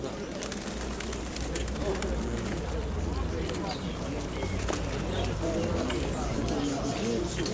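Pigeons coo at a bird fair market in Dnipro amid a busy background of voices and movement, soft repeated calls blending into steady crowd murmur and scattered clicks.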